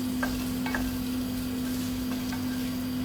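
Potatoes browning and getting coated in spices in a pan over very high heat, a steady close sizzle with a few light stirring scrapes and a constant low hum underneath.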